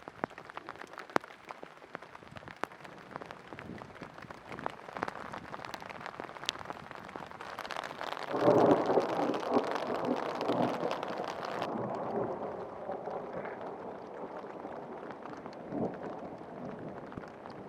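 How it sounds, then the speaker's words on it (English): Spring storm rain patters steadily on surfaces around a bald eagle nest at Big Bear, faint and continuous, with wind gusts and a heavier swell of downpour midway; no distinct thunder stands out. "it was a good storm with some thunder and lightning"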